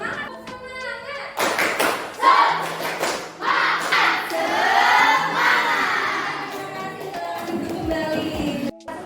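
Students in a classroom perform a rhythmic group clap, the sharp patterned claps and thumps mixed with children's shouts and cheering voices that fill the room throughout.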